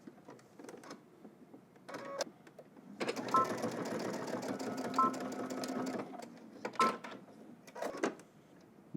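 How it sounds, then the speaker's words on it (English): Sewing machine stitching across a waistband seam at a 5/8 inch allowance, short bursts then a sustained steady whirring run, close and fairly quiet, stopping and starting again near the end. "now on the other side, you just want to stitch all the way across using 5/8 of an inch seam allowance"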